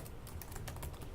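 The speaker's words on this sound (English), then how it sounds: "I type a lot." Rapid typing of a password on a computer keyboard, a dense, steady clatter of keystrokes up close with no voices.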